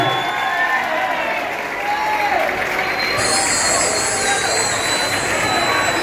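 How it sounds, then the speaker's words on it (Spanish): Audience applause for a boy at a live show, a broad sustained crowd clapping with cheering, loud and steady, mixed with a speaker's voice and a high tonal whine. "Aplauso y un fuerte aplauso."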